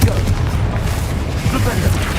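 A Confringo fire spell bursting in Hogwarts Legacy, a dense, booming low rumble of explosions that fills the whole moment, loud and close.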